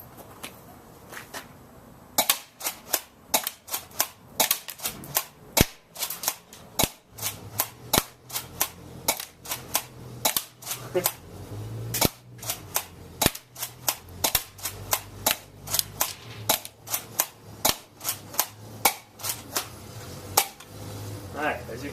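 Airsoft guns, including a shotgun, fired repeatedly at close range, dozens of sharp snapping shots in uneven bursts and single pops, with someone talking intermittently between them.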